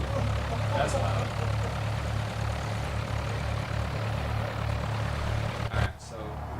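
A simulated propeller aircraft engine idles below 1,000 RPM in a home flight simulator, producing a steady close low droning hum with a brief dip and bump near the end.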